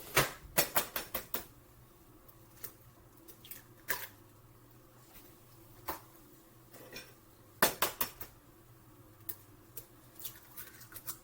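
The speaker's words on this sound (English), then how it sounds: "3 eggs, start to crack it on the bowl" Three eggs cracked against the rim of a bowl while baking apple bread: sharp, close taps in quick clusters, then pauses and more single knocks, with a quiet room in between.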